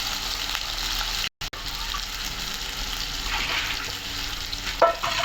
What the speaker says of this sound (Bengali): এখন আবার তেলে ভাজতেছি।